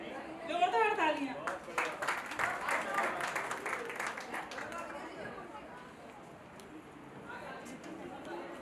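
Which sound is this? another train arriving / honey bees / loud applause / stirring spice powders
loud applause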